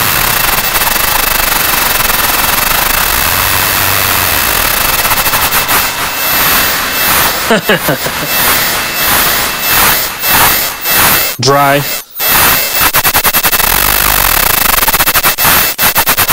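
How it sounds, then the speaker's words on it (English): Sputtering engine-start noises synthesized on a noise machine and run through delay: a loud, dense, crackling rattle with choppy bursts and stutters that continues throughout. "I love those little sputtering kind of engine start noises."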